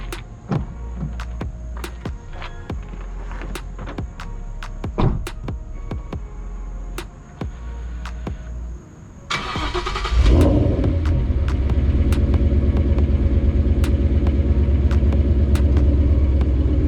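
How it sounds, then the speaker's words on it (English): A Ford Mustang engine is warm started. Clicks and ticking come first, then the starter catches and the engine rises to a loud, steady idle rumble that holds close for the remaining seconds. "I'll get you a warm start and head on out of here"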